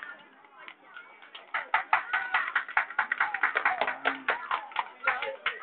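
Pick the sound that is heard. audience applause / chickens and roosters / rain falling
audience applause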